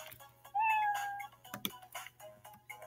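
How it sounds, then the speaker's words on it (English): A house cat gives one loud, drawn-out meow, rising then falling, close to the microphone, followed by soft clicks and light ticking over a low background hum; no one speaks. "Cat is mad loud."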